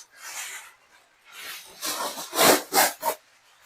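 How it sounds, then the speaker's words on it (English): Extra wide aluminum foil being pulled and torn into long strips in a kitchen while preparing brisket, a series of crinkly rustling rips that grow louder toward the end, close by. "Now I'm going to get my extra wide foil. I'm going to tear 2 very long strips."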